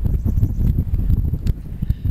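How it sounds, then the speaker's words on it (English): Heavy wind buffeting the microphone despite a windshield on a beach at low tide, a constant low rumbling roar with gusty fluctuations and no voices. "You can hear how windy it was, even with a windshield."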